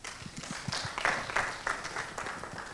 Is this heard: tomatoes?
no